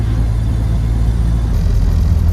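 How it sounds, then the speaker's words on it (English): Steady low engine rumble from inside an open-windowed Ford Model A on the road, with another car approaching and passing in the opposite direction, the drone swelling slightly toward the end; no talking. "Car's coming the opposite way."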